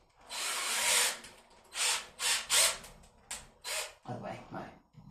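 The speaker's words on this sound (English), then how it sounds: "Then we're going to put it in the drill." A power drill turns the spring tension adjuster of a GEZE sliding door closer in close, whirring bursts: one long run, then several shorter pulses, followed by a brief lower-pitched burst.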